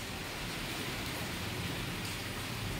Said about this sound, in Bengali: প্রচণ্ড বৃষ্টি হয়েছে